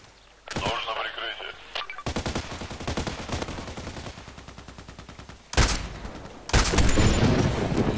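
Gunfire in the video game Contract Wars, bursts of rapid automatic shots in dense runs broken by short pauses, with louder, heavier blasts near the end, close and punchy.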